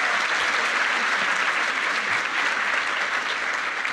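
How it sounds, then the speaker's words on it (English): A packed awards-gala audience applauds steadily for the police chief being honored, a dense, even wash of clapping that holds at full strength for the whole stretch with no voices standing out. "Give her a big round of applause."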